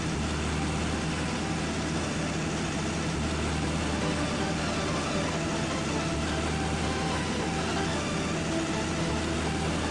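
A loud, steady engine drone from an old Polish car in the off-road driving game OHV, a continuous rumble with low mechanical hum and no talk.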